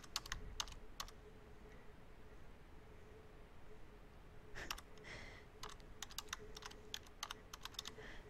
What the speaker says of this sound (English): All you're going to do is type in your content.